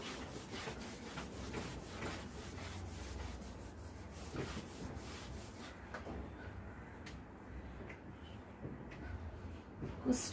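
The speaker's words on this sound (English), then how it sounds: "I'm rubbing this." Steady rubbing as a board is erased during a maths lecture, a continuous scratchy swishing of even strokes, close and fairly quiet with no talk over it.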